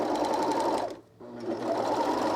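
A sewing machine stitches a knit crew scoop neckband onto a garment, running in a steady close whir that stops briefly for about a quarter second before resuming at the same pace.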